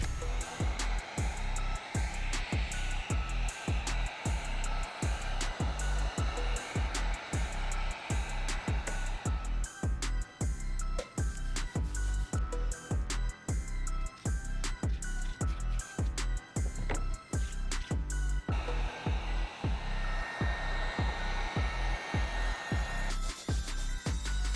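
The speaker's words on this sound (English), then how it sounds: "use some acetone, cotton balls, and a heat gun to remove the glue that's still stuck on the soles" A heat gun warms leftover glue on the soles of a rare limited-release Air Force 1 sneaker, a steady airy blowing hiss under a regular beat of strong low thumps, with the tone shifting partway through.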